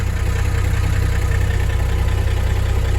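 A Freightliner FLU419 military Unimog idles with its rear PTO engaged, giving a steady, loud, low diesel throb with an even mechanical rumble close by and no talk.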